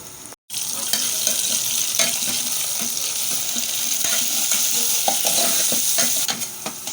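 Melon seed soup with locust bean is stirred in a pot, sizzling steadily throughout with a brief break near the start, the spoon scraping and clicking close up, with no voice.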